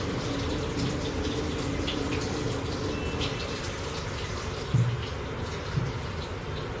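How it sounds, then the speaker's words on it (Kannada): Water being poured into a cooker, a steady, continuous rushing flow that runs throughout at an even level with no talking. "కొంచెం నీళ్ళు గుప్పాను"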